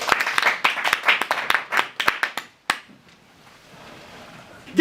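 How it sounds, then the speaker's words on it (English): A small live audience gives a short burst of clapping for two volunteer ladies at a motivational boot camp talk, dense at first, then thinning to a few scattered claps before quiet room noise. "Give everyone a round of applause."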